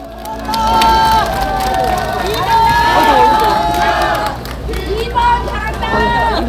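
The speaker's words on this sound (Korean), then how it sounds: "박수 부탁드리겠습니다" Crowd at a presidential campaign rally in Gongju cheering and shouting loudly after a dance performance, a dense babble of voices and whoops close by with little distinct clapping.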